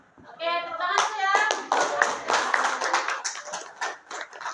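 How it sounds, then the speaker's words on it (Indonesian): A classroom of students claps together at a lesson practice session, brisk overlapping claps following a short spoken phrase at the start, with some voices in the background. "tepuk tangan ya"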